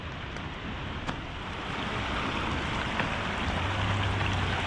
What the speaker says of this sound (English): A perfect little river runs through downtown. It's like picture perfect with crystal clear water.